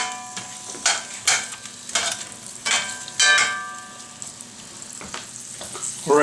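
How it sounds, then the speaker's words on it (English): A large red onion sautés in a pan, a steady frying sizzle broken by several loud bursts of stirring and scraping at uneven intervals, close and with no talking. "here goes 1 large red onion, and we will saute that for a few minutes"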